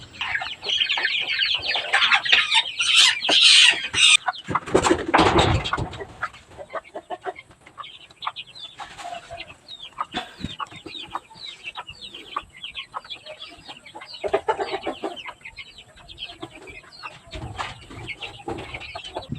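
Chicks moved into a coop and set on the ground for the first time, giving dense, loud overlapping high peeping and chirping close by, continuous throughout with a burst of rustling and a brief thump partway through.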